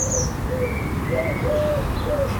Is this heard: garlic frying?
no